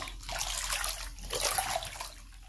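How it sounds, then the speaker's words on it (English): Bath water swished by hand after a bath bomb has dissolved, giving a continuous sloshing, splashing wash of water that rises and falls, close and fairly loud, with no talking. "I want to go ahead and swish through all of this and see what's left under the water."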